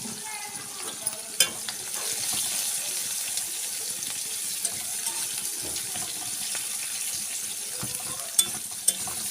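Two large onions fry in hot oil for a mustard-oil fish curry, a dense continuous sizzle near and loud, with occasional spatula clinks and a couple of sharp knocks near the end.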